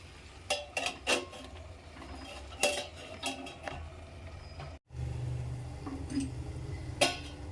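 A lid goes onto a pot of simmering Sapune greens, with scattered sharp metallic clinks of utensils and lid against the pot, close and distinct over a low kitchen background.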